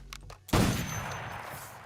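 A single loud gunshot bursts out in Assassin's Creed Shadows gameplay after a brief soft thump, then trails off into a long echoing decay, alone with no talk over it.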